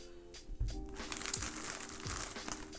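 Toilet paper from a hiking poop kit crinkles and rustles as it is handled up close, a few soft crumpling bursts spread over a couple of seconds with no talking.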